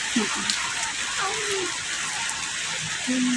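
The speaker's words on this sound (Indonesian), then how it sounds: "Kan pemirsa, udanan guys." Steady rain falls around a person caught outdoors in a storm, a dense hiss that runs unbroken throughout, with a voice talking briefly over it at times.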